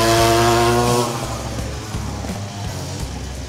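Dirt bikes ridden around a nearby neighborhood, a buzzing engine drone that starts loud and tonal, then fades to a rougher, more distant whine.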